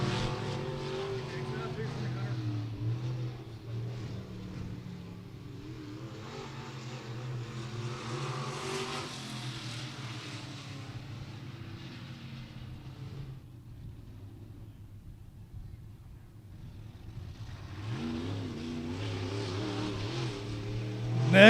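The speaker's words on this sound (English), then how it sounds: "Last lap around for Hunter." Local-class race cars run qualifying laps at Beckley Motor Speedway, engines droning and swelling as they pass at a distance, fading to a quieter lull midway before another car roars back in, under steady announcer commentary.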